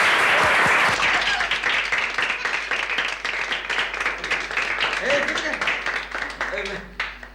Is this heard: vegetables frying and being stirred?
no